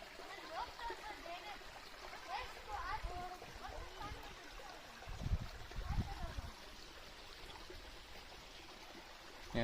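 A small stream trickles and splashes continuously along a forest path near a little footbridge, faint and steady beneath people talking.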